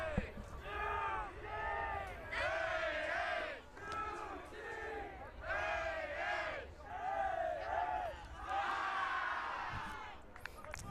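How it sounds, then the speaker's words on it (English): Utah U20 boys' team players chant and cheer together at an ultimate frisbee final, a rhythmic group cheer in repeated shouted bursts with crowd noise throughout. "Love that little cheer there from Utah."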